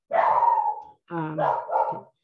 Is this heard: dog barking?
yes